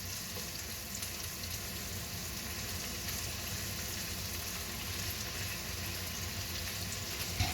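Garlic and chilli prawns crackle and sizzle on a grill in a continuous, fairly quiet frying hiss that stays level throughout.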